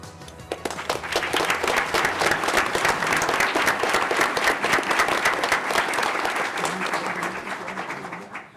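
Sustained applause fills the room at a school board meeting honoring students and their families, steady dense clapping from the audience that holds for several seconds before tapering off at the end.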